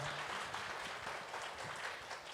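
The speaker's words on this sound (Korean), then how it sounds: "박수 부탁드리겠습니다." An audience applauds elementary school students at a children's traffic safety speech contest, an even wash of clapping that stays quiet and fairly distant throughout.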